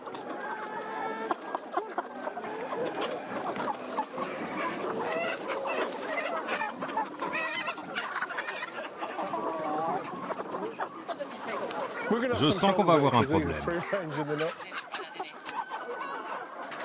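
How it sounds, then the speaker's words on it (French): Hens cluck steadily in a farm setting during flu virus sampling, a busy background of clucking with a louder flurry of squawks near the end, while someone speaks over it in French. "C'est très difficile d'attraper une poule."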